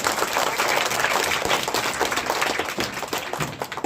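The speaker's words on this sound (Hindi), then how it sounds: "जोरदार तालियां इसके लिए बजाइए" Enthusiastic applause from an audience of students at an Urdu-medium school book distribution event, dense steady clapping filling the whole stretch at close range with no speech over it.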